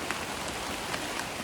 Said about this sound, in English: It is raining a lot, but the forest is protecting us.